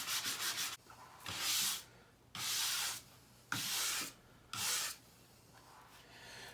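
A scraper drags wax off a ski from tip to tail in four smooth, separate strokes, each a dry raspy scrape of about a second, close and clear, with short quiet gaps between them.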